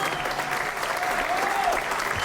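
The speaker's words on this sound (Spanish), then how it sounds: "Fuerte el aplauso, por favor." Steady applause from a concert audience in a municipal theatre, a dense continuous patter of many hands clapping with no breaks, fairly close and filling the whole stretch.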